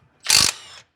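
A bigger half-inch impact gun breaks loose a tight valve cover bolt on a 2003 Monte Carlo, giving one short, loud, close hammering burst that trails into a softer spinning whir before stopping.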